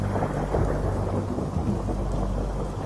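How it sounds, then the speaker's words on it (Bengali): Steady outdoor rain falls continuously and fairly loudly, with a dense low rumble beneath it suggesting distant thunder from a storm, and no voices present. "বাইরে তখনও এক নাগাড়ে বৃষ্টি হয়েই চলেছে।"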